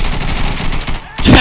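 Gunfire in the military shooter Insurgency: dense, loud rapid bursts of rifle and machine-gun fire ring out continuously and close. A short lull comes before another heavy volley at the end.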